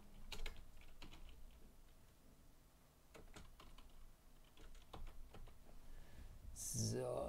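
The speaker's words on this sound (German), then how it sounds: "Ich bin mal kurz ruhig, damit ich tippen kann." A computer keyboard is typed on in quick irregular bursts of clicks, with brief pauses between runs of keystrokes and a louder rustle at the end.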